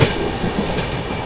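Rajdhani Express running non-stop, loud continuous rail rumble and wheel noise heard from onboard the moving train, steady and close without speech.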